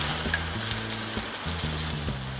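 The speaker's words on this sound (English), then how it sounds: "Now to that I'm going to add in 2 cans of diced tomatoes." Two cans of diced tomatoes added to browned meat in a pan on medium-low heat for lasagna sauce, giving a steady close sizzle with a low rumbling hum and a couple of soft knocks, no voices.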